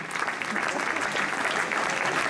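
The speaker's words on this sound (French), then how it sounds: "on va pouvoir vous applaudir également, comme il se doit" Steady, dense applause from an audience at a prize-giving ceremony for the Elorn 2019 challenge, greeting the podium finishers; continuous and fairly close, with no break in the clapping.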